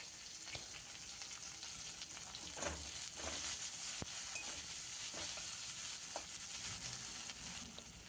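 Chopped onion and green chili frying in a pan, alongside grated ginger, make a soft, continuous sizzle with occasional stirring clicks and scrapes, heard close but quietly with no talking.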